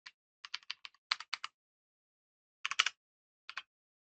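Computer keyboard keys clatter in short bursts of quick taps with pauses between groups, close and crisp, while someone types programming code.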